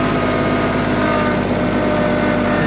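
A small engine runs loud and close at moderate revs, giving a steady, even drone with no noticeable rise or dip. No voices are heard over it.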